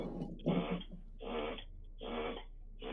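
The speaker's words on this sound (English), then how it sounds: "That's my daughter's dog." A dog makes odd, repeated huffing noises indoors, three or four breathy bursts in a steady rhythm, fairly close and moderately loud, with no talking.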